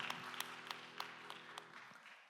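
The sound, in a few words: congregation applause in church service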